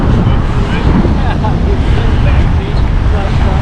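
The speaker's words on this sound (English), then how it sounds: "it is a little windy" Strong wind roars and buffets the microphone in a steady, close rumble that fills the whole clip.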